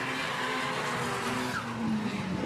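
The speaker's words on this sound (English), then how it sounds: "I just love that sound of the SR ripping past right there." A Nissan SR-engined drift car rips past at full power during a drift battle, a loud continuous engine roar mixed with tyre squeal.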